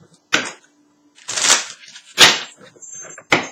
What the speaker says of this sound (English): Again, let me give the cards a bit shuffle.